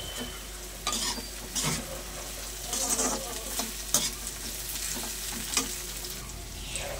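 Cashews and raisins frying together with fried rice in a hot pan, a steady close sizzle broken by repeated scrapes and stirs of a spatula.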